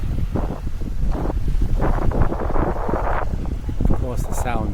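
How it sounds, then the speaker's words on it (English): Strong wind buffets a camera microphone outdoors on a very windy day, a loud continuous rumbling roar with gusts, while a person talks over it. "the sound's going to be not as good because it's very windy there today"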